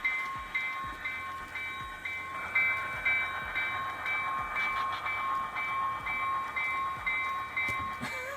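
A model train runs on its track, a steady rolling rumble with rhythmic clicking of the wheels and a sustained whistle-like tone over it, close and continuous, no talk.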